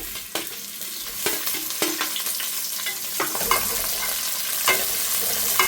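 Onions and peppers sizzle and fry in hot oil in a pan, with a steady crackle punctuated by repeated sharp scrapes and clinks of a stirring spoon against the pan, close and moderately loud.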